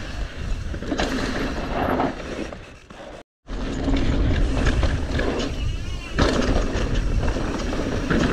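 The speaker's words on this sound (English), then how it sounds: "Wow, it's a bit windy." Strong gusts of wind buffet the microphone in loud, rumbling waves on a mountain bike trail, with a brief dropout midway and voices faintly under it.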